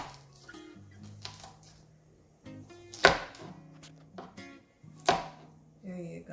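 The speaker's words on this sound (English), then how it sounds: "you can also cut your small vegetables with it" An adaptive cutting aid slicing small vegetables, with a handful of sharp chopping knocks spread apart, two much louder than the rest, over quieter low thuds in a calm room.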